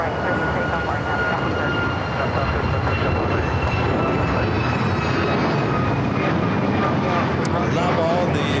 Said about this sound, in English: I love all the flight coming in from Barcelona, A330-200, touching down here on the south side.